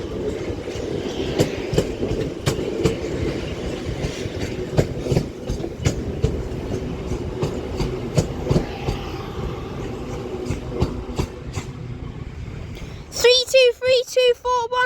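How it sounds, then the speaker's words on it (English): A Northern Class 331 electric train rolls out of Manchester Piccadilly with rhythmic wheel clicks over rail joints and a steady rumble, followed by a brief burst of loud, shrill wheel squealing at the end. "now departing is going to be a Northern Class 331 for Alderley Edge"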